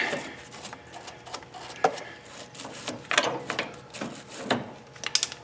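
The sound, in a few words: socket ratchet turning a bolt on lawn tractor steering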